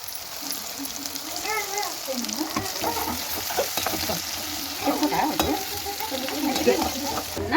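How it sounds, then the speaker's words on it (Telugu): Garlic, ginger and green chillies fry in a pan with a steady, close sizzle, while stirring scrapes and shuffles through them for the whole stretch. "పచ్చిమిరపకాయలు ఇవన్నీ బాగా వేయించుకోవాలా"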